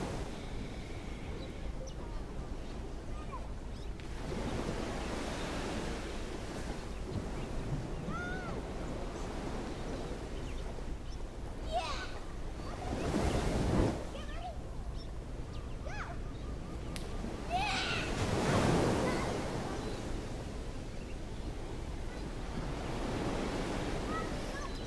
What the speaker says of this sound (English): sync up your breathing with the sounds of nature, the ocean's ebb and flow